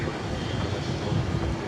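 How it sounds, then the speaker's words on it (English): An Airbus A330-300 pushing back from a terminal gate at DFW Airport, a steady low rumble of jet engines and ground noise filling the night air at constant level, no voices. "Iberia Flight 6148 to Madrid, that's an Airbus A330-300, is now pushing back from Terminal D."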